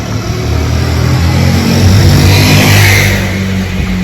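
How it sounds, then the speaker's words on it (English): A motorbike passing by near the Erewash Canal and River Trent: a loud, rough engine rumble that swells toward a peak near the middle, then fades slightly while staying close, with no talk. "Oh, motorbike."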